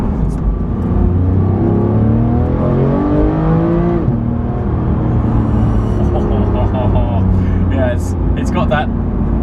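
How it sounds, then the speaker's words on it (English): Engine of a Porsche 991 GT3 revving and pulling hard, a loud, continuous howl climbing in pitch, then dropping and building again, with someone talking over it. "It still sounds like a Porsche, like a proper GT Porsche."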